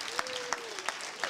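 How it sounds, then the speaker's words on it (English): A small group in an agile conference audience gives scattered applause, a few distinct claps standing out roughly every third of a second, with a sustained whoop or hum running underneath. "prepare to give them a rock stadium applause"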